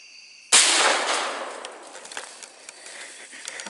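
A single loud rifle shot fired at a whitetail deer during a public-land youth hunting season, a sharp crack at the start followed by a long outdoor echo and reverberation tailing off.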